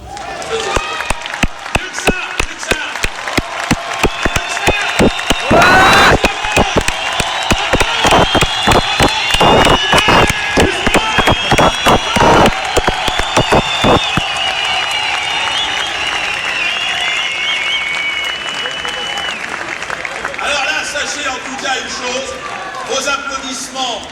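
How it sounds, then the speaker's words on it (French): A large crowd at a Dieudonné show at the Zénith applauds loudly for the whole stretch, sharp dense clapping with cheering mixed in and a sudden loud burst early on, easing slightly toward the end. "Je vous demande d'applaudir Monsieur Robert Forisson"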